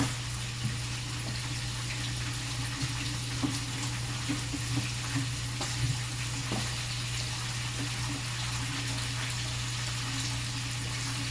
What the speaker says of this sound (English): I'm just gonna wash these little fines.